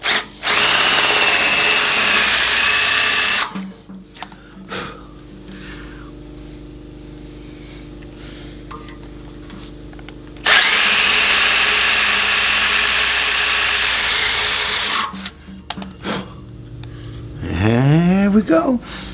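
A power drill with a small bit whines loudly into an engine block in two long bursts, separated by quieter mechanical rumbling and clicks, with a brief rising tool whir at the end.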